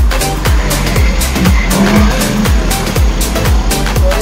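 Road traffic on a street near a cemetery in the Philippines, with cars passing close by in a steady loud stream of engine noise and repeated whooshing sweeps, with no talking.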